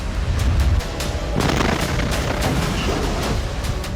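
Explosion blowing up an Israeli Merkava tank in Jabalia camp in news footage, heavy booming blasts with a deep opening rumble followed by repeated sharp detonations and crackling gunfire.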